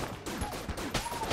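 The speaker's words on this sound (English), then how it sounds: "we'll start using hegemony rifle." Rapid bursts of hegemony rifle fire in the video game Enter the Gungeon crackle quietly for just over a second, a fast stream of overlapping shots.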